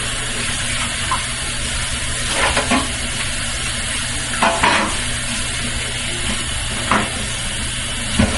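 Hot oil in a pot for jollof rice sizzles and spatters steadily, with sharp crackling bursts popping up every so often over the continuous hiss; no voices.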